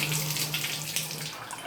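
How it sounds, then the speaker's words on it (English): Water runs steadily from a hotel shower set to shower mode at a thin, reduced flow, a constant close hiss and patter with no voices. "Water runs on it just fine. Shower mode."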